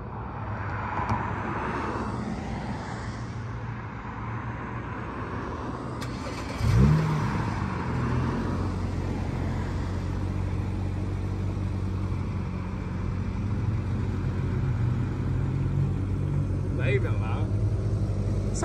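A car engine starts with a brief burst and then idles steadily as a low continuous rumble, with people talking casually over it throughout.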